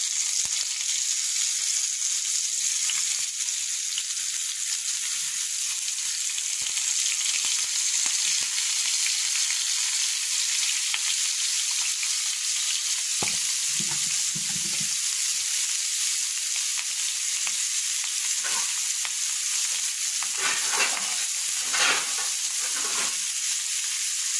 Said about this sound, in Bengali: এখন আমি ফ্রাই করে নেব।